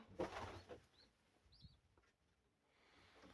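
Sport pigeons in a breeding loft give soft, faint coos and brief calls, with a short rustle of movement, in an otherwise quiet space.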